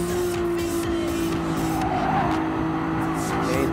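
Tires squeal as a race car slides through a corner in Gran Turismo Sport, the screech running over a steady engine drone with other cars nearby, continuous and fairly loud.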